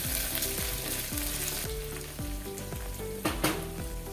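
Onion sautéing in a pan for Maharashtrian masala rice gives a steady close sizzle, with rhythmic stirring scrapes throughout and a louder clatter near the end; music plays underneath.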